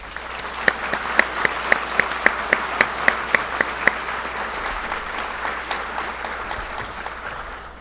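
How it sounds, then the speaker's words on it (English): An audience applauds at a 2018 Veterans Day ceremony, with a dense wash of clapping and a run of sharp, evenly spaced claps standing out near the front during the first half. "Please give them all a round of applause."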